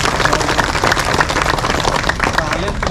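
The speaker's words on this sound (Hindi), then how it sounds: "ताली खड़काचे" Audience clapping at an election meeting for new office-bearers, a dense, steady patter of many hands lasting throughout with a busy crowd murmur mixed in.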